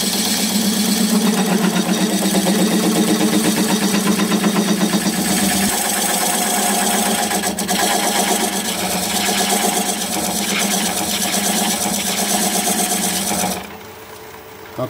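A wood lathe spins a red cedar log while a parting tool cuts a shoulder into it, a continuous rhythmic rumbling drone with scraping texture that fades out near the end.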